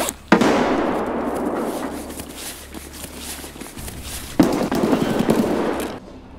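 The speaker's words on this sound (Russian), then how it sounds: "Граната." Two heavy grenade blasts go off in Escape from Tarkov. Each is a sudden sharp crack that rolls into a long, rumbling decay, with the second hitting a few seconds after the first.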